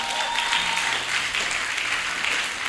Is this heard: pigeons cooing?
no